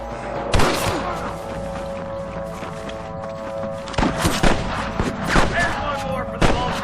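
Gunfire in a Red Dead Redemption shootout against snipers: loud, sharp rifle cracks, one early and a cluster later, over a constant layer of game music and ambience.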